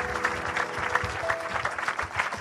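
Congregation clapping in acclaim of God at a church service, a steady rhythmic applause of many hands close by, with faint voices mixed in.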